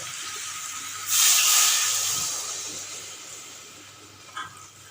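Water hits hot fried masala in a pan and sets off a sudden loud hiss of steam that slowly fades into a softer sizzle, with a small clink near the end. No voices are heard.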